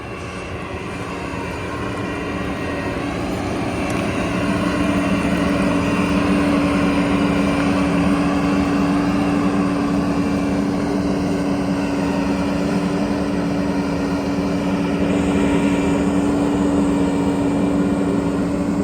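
A John Deere 9610 combine harvester with a 925 flex header drives through a soy field at low revs, its engine a loud, steady droning hum that builds slightly at the start and holds constant throughout.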